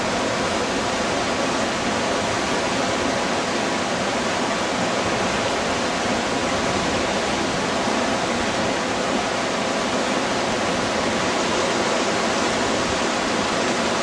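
High river water rushes under a railroad bridge at Cache Creek, a steady, loud broadband roar of churning current that holds unchanged throughout, with no voices.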